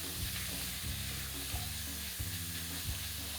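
Beef sizzles steadily in a preheated pot, a loud continuous hiss with low scraping thumps from stirring repeating about every two-thirds of a second.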